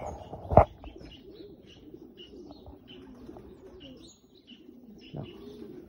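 Racing pigeons coo softly at the loft, with low rolling murmurs repeating throughout, faint chirps overhead, and a sharp knock or flap near the start.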